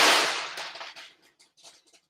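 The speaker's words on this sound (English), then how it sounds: "right, it's fireworks." Fireworks going off outdoors: one sharp, loud burst that quickly fades into a scatter of fainter crackles and pops, with no voices.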